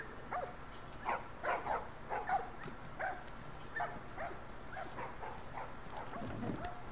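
Dogs in the video game The Last of Us bark softly and whimper in a string of short yips through the first half, fairly faint over a low background.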